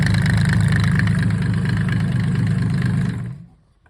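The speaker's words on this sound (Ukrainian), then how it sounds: "хороший мотор" A Mercedes OM603 diesel engine with a mechanical injection pump idles steadily in sub-zero cold with a low, even rumble for a few seconds, then cuts off abruptly into silence.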